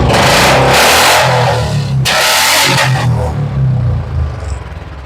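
A 2021 Royal Enfield Standard Bullet motorcycle in showroom condition revs up close: two strong throttle blips over a thumping idle, then the engine settles back to a lumpy, uneven idle.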